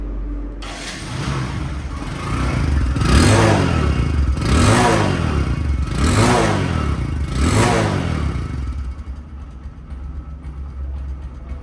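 Secondhand Bajaj Discover 100cc motorcycle in Bangladesh, its engine started and revved: a steady idle broken by four rhythmic, rising and falling throttle blips close by, then settling back to idle.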